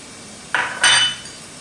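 A spoon scrapes and clatters against a pot while salt is stirred into steamed attiéké, in two quick close bursts, the second longer and louder, with quiet between them.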